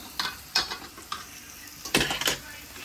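Crushed garlic and ginger frying in a pan, stirred with a few short scraping, sizzling bursts spaced irregularly, fairly close and moderately quiet, with no talk.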